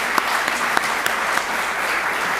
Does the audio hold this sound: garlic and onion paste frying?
no